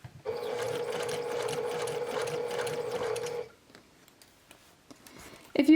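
A sewing machine stitches a round drawstring bag in one steady, close, humming run of about three seconds, then stops, leaving faint handling clicks.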